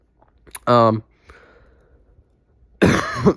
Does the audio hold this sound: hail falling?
no